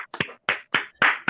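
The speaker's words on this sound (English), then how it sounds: "A little round of applause for Jordan" Scattered hand claps from a small audience at a workshop, a few bursts of clapping spread over about a second with short gaps between them, close and moderately loud.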